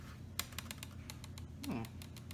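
Keys are pressed one after another on the mushy keyboard of a 1998 Dell Latitude CPi laptop with a missing enter key, a run of quiet close clicks and taps at uneven pace.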